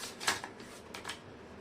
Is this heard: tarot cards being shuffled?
yes